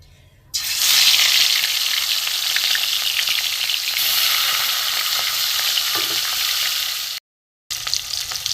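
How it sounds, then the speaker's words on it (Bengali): Two pieces of rohu fish sizzle loudly in hot mustard oil in a wok, a dense, continuous crackling spatter that starts abruptly, cuts out briefly near the end, then resumes. "কড়াই বসিয়ে দিয়েছি, সর্ষের তেলে দিয়ে দিয়েছি। এতে আমি মাছ দুটো ভেজে নেব।"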